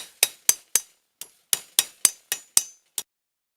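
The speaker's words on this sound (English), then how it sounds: "then you can then flatten it down with a hammer" Ten sharp metallic hammer strikes flattening scrap metal on an anvil, in a fairly even rhythm, each ringing briefly and decaying fast, close and loud with silence between.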